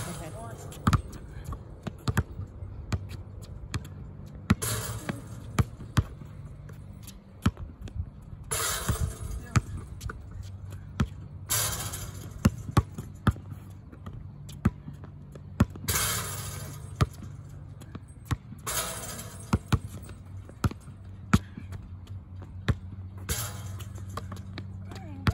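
Basketball shots clanging and bouncing on a double-rim outdoor hoop during a timed shooting workout of elbow jumpers, with repeated sharp impacts and ball bounces at a steady pace while people talk.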